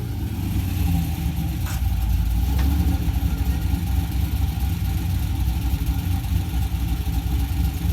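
A Corvette drift car's engine rumbles loud and close, idling deep and steady with a brief rise in revs, no voices over it.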